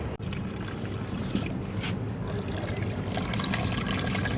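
Water poured out for an animal in Kuwait, a steady trickling and splashing pour that runs continuously and fairly close throughout.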